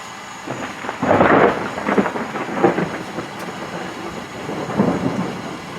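Deep thunder rumbles roll in waves, swelling and fading with a steady hiss of rain in the background.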